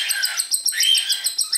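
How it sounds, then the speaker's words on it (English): Cockatiel chicks squawk at feeding time in rapid, repeated high chirps, close and loud, forming an almost continuous shrill chorus. "Sorry about all the squawking, but that's typical of feed time."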